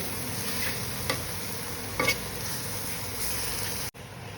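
Onions frying in a pan for a chutney served with besan chilla, a steady close sizzle with a couple of brief stirring clicks and a short break near the end.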